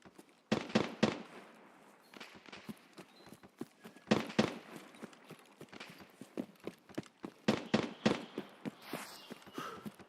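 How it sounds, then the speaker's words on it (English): Video game gunfire aimed at a BTR vehicle: bursts of sharp shots and rattling reports in irregular clusters, some close and loud, others lighter and scattered, over a continuous noisy battlefield background. "I think they're just shooting at the BTR."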